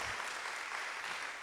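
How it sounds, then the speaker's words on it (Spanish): A church congregation applauds loudly in praise during a worship service, a dense, steady burst of clapping filling the room throughout. "Dale un aplauso fuerte al Señor."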